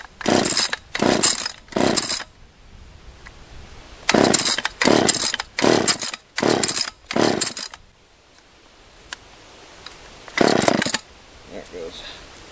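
A fueled and tuned Stihl 020 AV top-handle chainsaw gives a series of short, loud, rasping bursts in uneven clusters as it is started, with brief pauses between them and a final burst after a longer lull.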